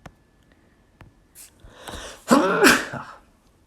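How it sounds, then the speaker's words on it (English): A single close, loud sneeze with a short breathy intake before it, standing alone against a quiet background. "Oh, I had to sneeze."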